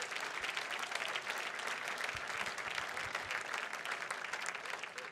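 Steady, dense applause from a sizable crowd at a gala, sustained evenly throughout at a moderate distance.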